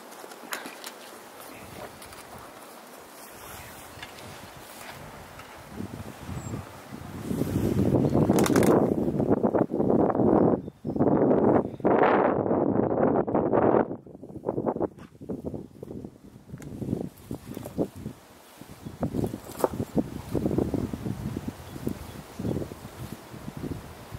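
Gusty wind buffets an outdoor spot during a metal-detecting search for hidden banknotes, building into loud rough rushing bursts midway and then easing into uneven gusts.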